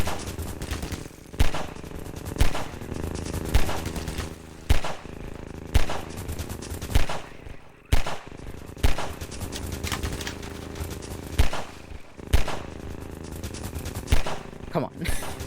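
Enemy gunfire in Half-Life 2 during an airboat section, loud repeated bursts and sharp shots at irregular intervals of roughly a second, some clustered in rapid volleys, booming close over a constant engine-like drone.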